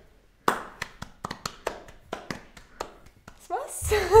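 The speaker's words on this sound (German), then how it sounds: "Ein Applaus." A small group clapping hands in a short burst of applause, a dozen or so sharp, uneven claps at close range, followed by a rising noise at the end.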